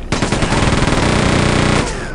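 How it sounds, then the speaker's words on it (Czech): Rapid enemy gunfire in Quake II, a loud close burst of fast automatic shots in a dense rattling stream that stops abruptly after about two seconds. "Ten střílí nějak moc rychle."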